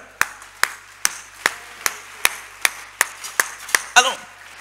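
A church congregation clapping in unison during a French-language sermon, about a dozen sharp, evenly spaced claps in a steady beat, close and loud, ending in a slightly louder burst.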